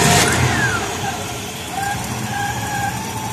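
A 1970 Ford Falcon with its 289 V8 running at idle, a steady close engine rumble with a slight rise and fall, heard alone without talk.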